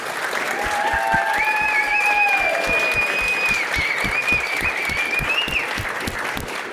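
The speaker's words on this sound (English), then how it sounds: "Can we go ahead and give them one more round of applause" Sustained audience applause for junior police academy graduates, steady dense clapping from a crowd with occasional brighter claps near the front, while a voice or tone rises faintly beneath it.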